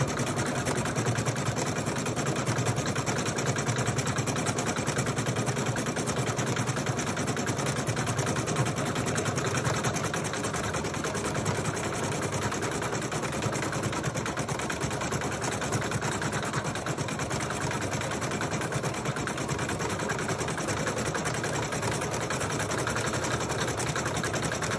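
A sewing machine runs steadily for about twenty-five seconds, stitching a tack-down stitch on a doll's hat, with a continuous close mechanical whir and no speech.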